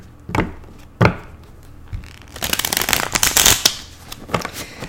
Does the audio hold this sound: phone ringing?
no